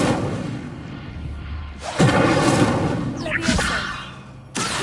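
An Incendio fire spell cast in Hogwarts Legacy, a whooshing burst followed by a rumbling thud, with a second swish later, under a voice.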